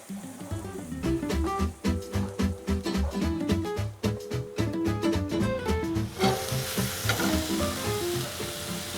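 Fresh pasta sizzles and crackles in a pan of stir-fried tom yum paste with lemongrass, dense frying hiss under a clattering rhythm of stirring, louder and brighter toward the end, with no talking.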